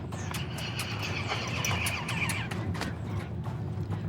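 Horses being gentled and prepared for riding in a Wild West taming program, with a steady noisy background and a faint, drawn-out whinny partly masked in the middle, plus scattered sharp clicks and knocks throughout.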